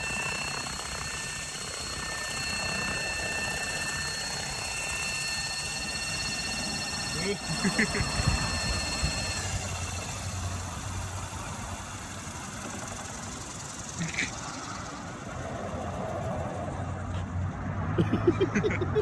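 A radio-controlled model helicopter runs with its tail rotor turning at only about 4,000 RPM, giving a steady droning engine whine with sustained tonal hum that drops away after about ten seconds, leaving a rougher mechanical rumble and a few clicks.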